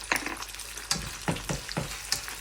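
Fried rice with corn and egg is stir-fried in a pan, giving a steady close sizzle broken by rhythmic scraping and tossing strokes about every half second, with no talking.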